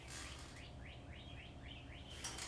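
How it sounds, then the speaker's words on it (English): Several quick chirps from birds outdoors, repeating in a steady run of short rising calls, faint and somewhat distant over a low background hum. "You guys hear the birds?"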